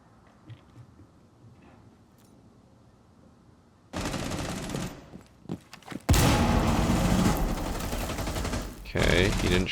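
Rainbow Six Siege gunfire sprayed through a wall, loud rapid bursts of automatic shots that erupt after a quiet stretch, with a second, even louder sustained burst and faint clicks and footsteps between.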